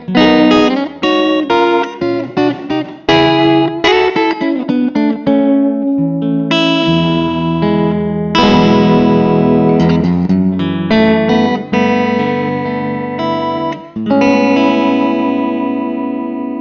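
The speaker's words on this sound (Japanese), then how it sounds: "タリスマンゴーストっていうペダルなんですけども、リバーブでなんとEMT140 っていうプレートリバーブですね。" An electric guitar is played through a Catalinbread Talisman pedal, an EMT140-style plate reverb with a wobbling tremolo. Loud, sustained chords and picked notes ring out with a long, shimmering, pulsing tail, playing alone throughout.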